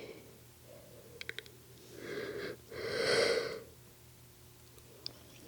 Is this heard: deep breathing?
yes